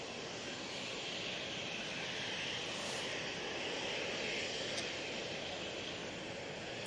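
A KLM Embraer jet at Manchester Airport gives a sustained, even engine roar on takeoff, heard from a moderate distance with no talking.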